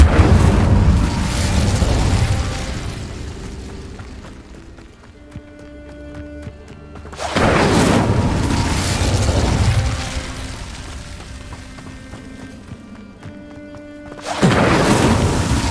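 Incendio fire spell cast in the video game Hogwarts Legacy: three loud, roaring fiery blasts at regular intervals, each fading into a stretch of soft tonal music before the next burst.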